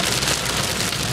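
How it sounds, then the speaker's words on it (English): Hail and rain pound a vehicle on the I-25 highway during a thunderstorm, a dense, steady, loud drumming with no break. "Oh, man, the hail's coming in, man."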